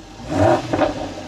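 A Jaguar F-Type R's engine revs, rising to a loud throaty swell, dipping, then surging again, heard close from inside the car.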